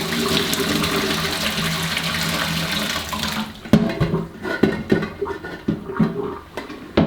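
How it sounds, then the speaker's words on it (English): Water rushes and pours in a continuous splashing stream, then gives way to irregular sloshes, drips and clunks as the flow tapers off. "And I have to drain the water out."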